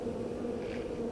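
Honeybees hum steadily around a hive while a package of bees is being hived, giving a dense, even, continuous drone at low volume with no talk.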